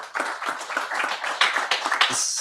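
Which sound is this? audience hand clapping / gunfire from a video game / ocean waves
audience hand clapping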